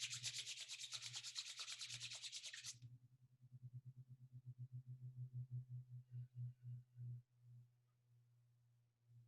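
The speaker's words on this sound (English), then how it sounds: "Rub your palms." Palms rubbed briskly together during a yoga session, a close, dry swishing friction for under three seconds, followed by a steady low hum with rhythmic pulsing.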